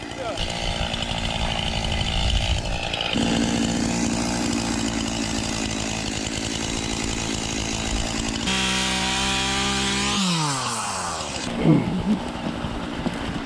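A chainsaw with a loose, dull chain cuts wood up close, its engine droning steadily, then revving higher and dropping off near the end.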